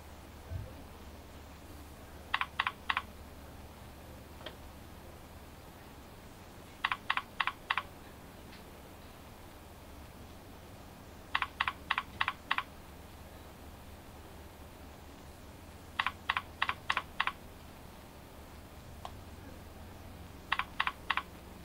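Short bursts of computer keyboard typing, three to five quick keystrokes each, recur every few seconds over a quiet hiss while identity details are entered.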